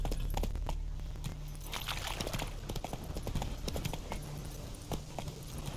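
Hooves of the horse Roach galloping in The Witcher 3 video game, a fast, rhythmic clip-clop running without a break, close and moderately loud with light jangling tack.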